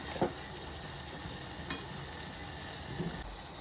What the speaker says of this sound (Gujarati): થોડુંક એને હલાવી દઈશું બરાબર સારી રીતે.